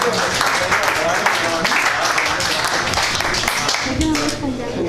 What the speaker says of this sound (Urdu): تو آئیے آپ سب کی بھرپور تالیوں میں ڈاکٹر محمد شفیق